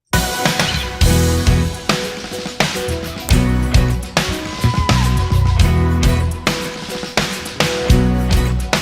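A snare drum layered with compressed tracks hits steadily within a loud, dense drum and music mix, punchy regular beats over bass and other instruments, with no talking.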